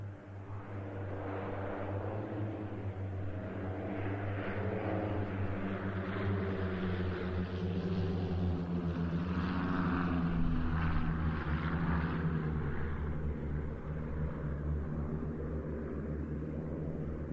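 Aircraft flying past at the RIAT air show, a sustained droning engine roar with steady low tones that builds gently toward the middle and eases off, moderately distant, no talk.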